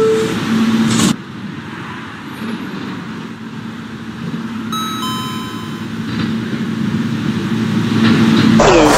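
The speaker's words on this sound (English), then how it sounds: "This is a Coney Island bound Q express train." A New York subway Q express train bound for Coney Island rolls along with a steady low rumble and broadband wheel-and-track noise, with door-chime-like tones partway through, loud and continuous with no voices.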